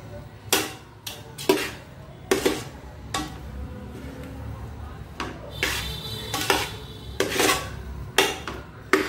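Boiled potato and sabudana vada mixture is worked together with plenty of oil in a large vessel, making steady, repeated scraping and stirring strokes at close range.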